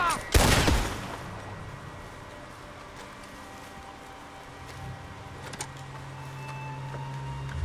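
A burst of gunshots in Red Dead Redemption 2, one loud sharp crack near the start followed by a long low rumbling tail and a fainter shot later, over steady game ambience.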